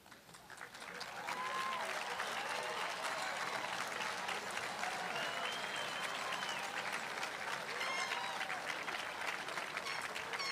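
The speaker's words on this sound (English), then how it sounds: "Salutatorians, please stand and enjoy the applause from your friends," Applause for salutatorians at a high school graduation ceremony, a large crowd clapping steadily and fairly loudly for about ten seconds after a quiet start, with occasional cheers and voices mixed in.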